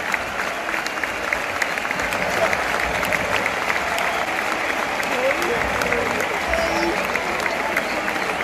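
A large Camp Nou stadium crowd applauds a departing player during a 5-0 Gamper Trophy friendly against Pumas. The dense roar of clapping holds steady throughout, with voices in the crowd and a nearby person speaking.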